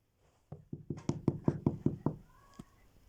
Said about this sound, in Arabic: يا ترى ما الذي يخبط؟